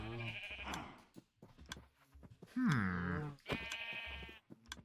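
Sheep in the Minecraft video game let out a few clear, wavering bleats among game sounds, with someone talking around them.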